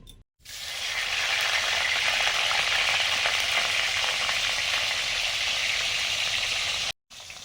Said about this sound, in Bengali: ইলিশ মাছের মুড়ো ভাজা হয়ে গেছে